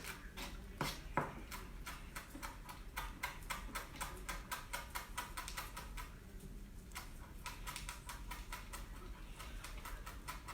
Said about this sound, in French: je vais rajouter ma coriandre que je vais couper